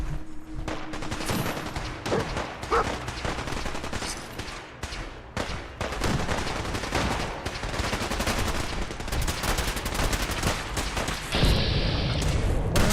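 Continuous bursts of gunfire from settlers in the video game Fallout 4 with the Sim Settlements 2 mod, rapid overlapping shots, loud and sustained throughout.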